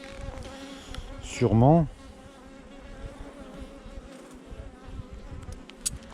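Bees buzzing, one passing close with a brief loud rising drone before fading back into a faint steady background hum, while a person says a word quietly.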